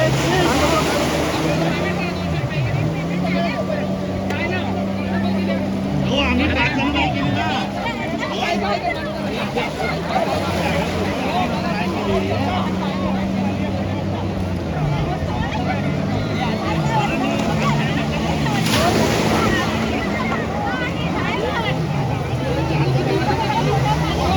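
A motorboat towing a banana ride off Malvan beach drones steadily with surf and wind noise, under a continuous layer of nearby people chattering and talking.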